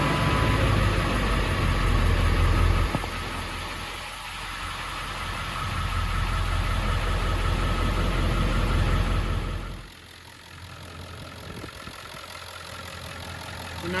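A Ford 7.3 Powerstroke diesel engine idles with a loud, steady rumbling clatter that shifts in tone partway through, then drops to a quieter, smoother run after about ten seconds.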